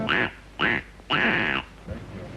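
A duck quacks three times in a row, loud and close, the third call drawn out longer, with a softer fourth sound trailing after.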